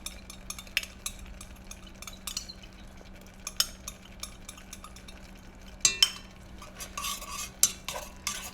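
Apricots and mustard being stirred in a pan, with a spoon scraping and clinking against the metal in irregular strokes, a few louder knocks near the end and a faint sizzle underneath.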